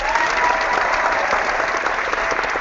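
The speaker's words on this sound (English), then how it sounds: "I'll even clap for you" Steady, dense applause from a small group fills the whole stretch at a constant loud level, with no voices breaking through.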